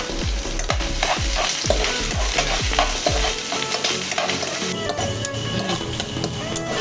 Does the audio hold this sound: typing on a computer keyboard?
no